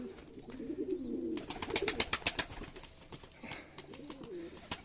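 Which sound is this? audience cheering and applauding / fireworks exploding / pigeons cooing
pigeons cooing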